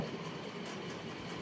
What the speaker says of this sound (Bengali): আপনাদের গন্তব্য নিয়ে যাবে এই মেট্রো রেল।